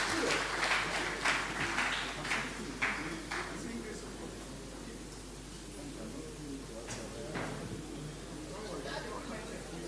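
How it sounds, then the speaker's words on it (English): Applause from an audience honoring a senator at a live broadcast event, a steady crowd clapping at moderate distance with murmured chatter underneath. "a round of applause for him."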